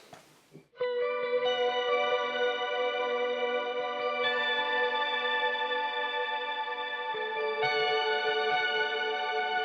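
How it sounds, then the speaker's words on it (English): An electric guitar played through a high octave effect and a Julia chorus pedal rings out sustained, shimmering chords with a wavering, atmospheric wash, changing chord twice over a long, even swell. "I'm going to crank up the high octave, add in maybe some Julia, and you get maybe something like this"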